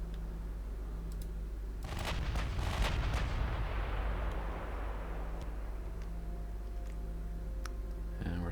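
Long-range naval gunfire at about 45 kilometres in Ultimate Admiral Dreadnoughts: a cluster of sharp cracking reports bursts out, then a long rumbling roar fades slowly beneath a steady background hum.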